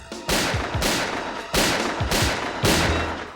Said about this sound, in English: A flurry of gunshots.